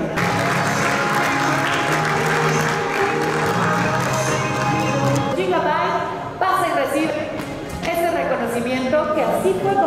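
At an award ceremony an audience claps in a sustained, fairly loud wash of applause, while a presenter's amplified voice talks over it and the clapping thins toward the end.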